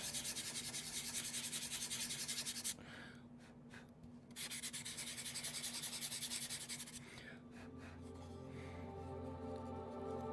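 A carved wood piece is smoothed down by hand with a continuous dry rubbing that stops briefly in the middle, then resumes as a close, steady scraping.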